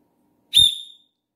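An aluminium whistle from a budget prepping kit gives one loud, shrill blast of about half a second that fades quickly, heard alone against silence.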